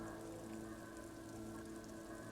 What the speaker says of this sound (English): Droplets of rain fall on the wooden planks, the surrounding sand dunes.